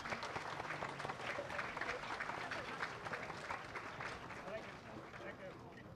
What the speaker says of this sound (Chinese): 我们以热烈的掌声感谢师尊的赐福